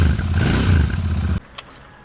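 A Royal Enfield Interceptor 650 on its standard exhaust runs close by with a loud, steady low throb that cuts off abruptly partway through, leaving near silence with one small click.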